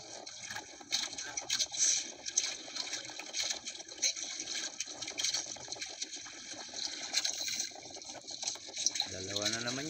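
Strong river current rushes steadily through the whole stretch, a dense continuous wash of water, with people talking now and then over the flow.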